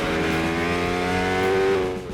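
A Ducati 1199 Panigale R superbike's 1199cc engine drones steadily and loudly, its pitch holding even before lifting slightly near the end, then easing off.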